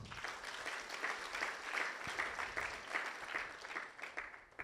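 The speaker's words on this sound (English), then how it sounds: "Can we give her a clap?" Audience clapping at a farewell dinner honouring a professor, a moderate round of many hands with slight swells in intensity, heard fairly close and without talking over it.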